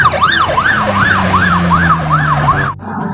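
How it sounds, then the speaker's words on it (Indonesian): A toy ambulance wails with a rapid, regular up-and-down electronic siren, loud and close, over a low hum, then cuts off abruptly near the end. "lihat di sini ada mobil ambulans"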